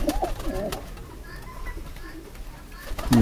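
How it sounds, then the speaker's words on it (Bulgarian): An old pigeon cooing softly, its low calls muffled and somewhat distant, with handling noises and faint knocks around it and people talking nearby. "Обаче много стар гълъб беше."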